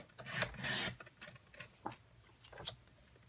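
Whisper White cardstock being trimmed for a handmade card, a few dry scraping, rasping strokes close by with short pauses between them and no talking.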